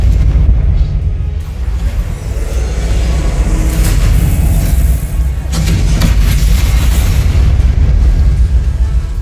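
Booming spell blasts of Confringo from the video game Hogwarts Legacy, continuous loud low rumbling with repeated bursts layered over a busy battle mix, no speech.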